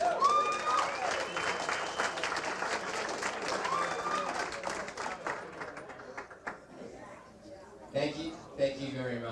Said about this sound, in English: a nice round of applause for Stephen Brown